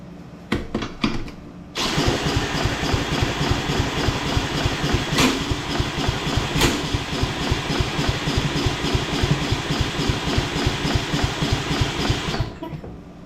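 A lawn mower engine fires after a few sputtering pulls, then runs with a loud, close, rapid chugging putter for about ten seconds before cutting out abruptly.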